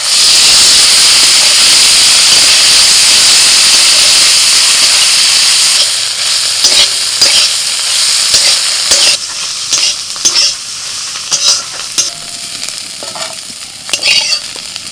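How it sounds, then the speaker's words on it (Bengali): Fish sizzling loudly in hot oil with a constant hiss, then stirred, with clattering strokes and bursts of spitting in the second half. "তেল গরম হয়ে গেছে, মাছগুলো একটু নেড়ে নেবো।"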